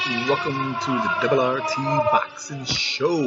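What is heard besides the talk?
siren sound effect in boxing show intro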